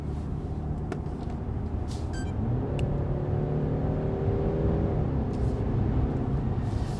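A BMW 530i xDrive sedan cruising at highway speed, a steady low engine and road drone filling the cabin throughout, with a faint rise in engine tone midway and no talk.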